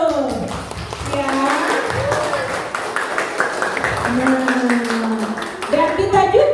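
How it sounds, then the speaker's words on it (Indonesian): Children and staff at an elementary school assembly clap for their school's district competition winners, with a brisk run of clapping heard under and between loud, excited voices. "Tepuk tangan dulu ya."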